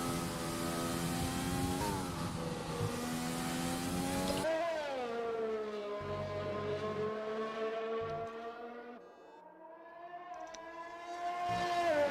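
Race car engines from F1 2020 on a warm-up lap, a steady high-pitched whine that rises in revs, then drops to a lower, smoother drone before climbing again.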